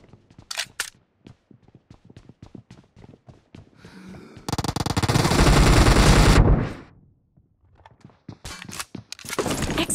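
Video game gunfire: scattered sharp single shots give way to a loud, sustained automatic burst lasting about two seconds, then more clipped shots and rapid bursts toward the end.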